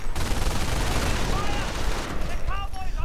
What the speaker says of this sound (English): Mortars firing away.